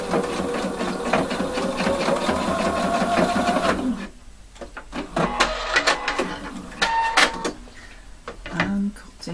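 A sewing machine stitches a button fly on denim jeans, a dense rapid whirring run for about four seconds, then stops and gives way to scattered clicks and handling noises.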